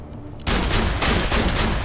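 Rapid gunfire from weapons in the shooter game Borderlands 2 erupts suddenly after a quiet moment, a loud, continuous volley of shots.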